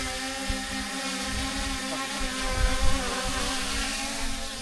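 A DJI Mini 5 Pro drone flying outdoors on a hillside trail among trees, its propellers giving a loud, steady, high-pitched buzz that swells slightly midway, close and continuous with no talk.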